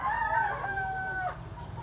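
A single close rooster crow on a gamecock farm, drawn out for over a second before trailing off into quiet.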